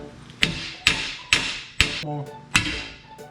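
A hammer delivers five sharp, evenly spaced metallic taps on a part of a Jeep being fitted in a shop, each strike ringing briefly before the next.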